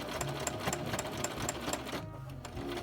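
A sewing machine stitching right along a fabric edge, a steady close mechanical whir with evenly spaced stitch clicks, briefly slowing near the end before resuming.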